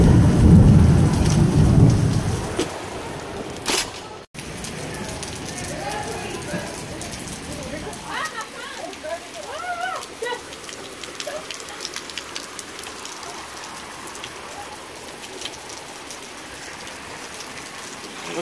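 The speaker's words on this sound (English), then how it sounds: "I don't even need to open the door to know it's still raining." Heavy summer rain with thunder, a loud low rumbling roar at first that fades after a sharp break to a steady softer patter of rain on surfaces, with faint sounds scattered over it.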